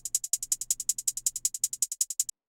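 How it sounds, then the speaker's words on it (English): A simple alternating hi-hat in a trap beat ticks in a fast, even run of about twenty crisp, bright hits, with a faint low bass pattern underneath, ending abruptly. "First thing is this hi-hat. It's just a really simple alternating hi-hat."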